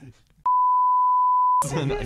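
A single censor beep, a steady pure tone of about one second, cuts in loud and alone after quiet murmuring, then stops abruptly as a person starts talking.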